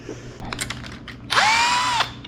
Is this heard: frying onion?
no